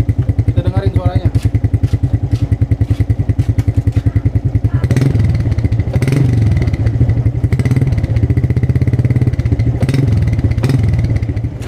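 A Suzuki Shogun 125 R motorcycle engine idles with a rapid, even putter close by, rising into a louder, rougher rumble partway through as it is revved.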